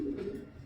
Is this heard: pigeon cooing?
yes